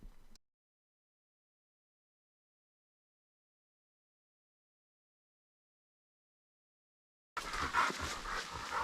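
A hunting dog pup panting while out on a grouse and woodcock hunt in Maine, heard as a brief burst of close, breathy panting at the end of a long silence.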